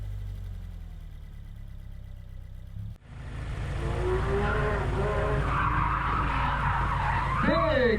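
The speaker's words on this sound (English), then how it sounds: "Big fast spin for the GT3." A Porsche GT3 at an autocross spins out hard, with tires skidding and squealing loudly as its engine roars close by for several seconds after a sudden burst.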